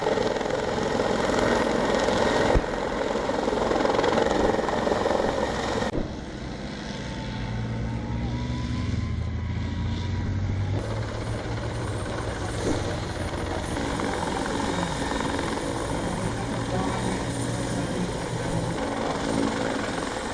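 A military helicopter's rotor thump and engine roar fill the whole clip during army combat and parachute training, loud and steady, with a faint low drone underneath and no talking.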